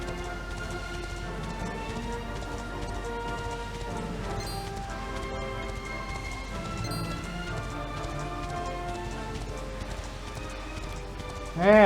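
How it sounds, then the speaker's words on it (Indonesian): Steady clip-clop of horse hooves from riding a horse across desert terrain in Dragon Quest XI S, a continuous galloping rhythm under game music throughout. "Kita naik kuda guys, biar cepet jalannya guys"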